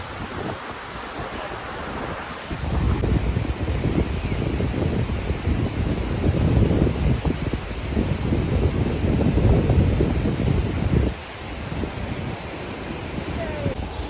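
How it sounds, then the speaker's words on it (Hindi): Strong, cold wind gusting across a swaying bridge in Murree, roaring and buffeting the microphone in a loud, sustained rush that eases near the end, with a person talking at times. "बहुत ठंडी हवा चल रही है"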